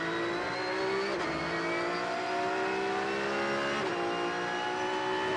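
A Porsche race car at Homestead Miami Speedway screams at full throttle, a loud sustained engine howl with rising pitch and a couple of brief gear-shift dips, heard close from onboard with no talk.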